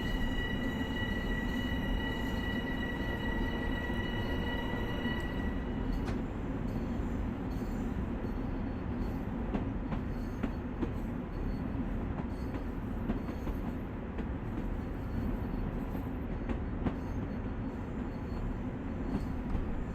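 Long Island Rail Road M7 electric commuter train from Train Sim World running steadily, with a constant loud rumble and rolling wheel noise, and a faint high whine that fades after the first few seconds.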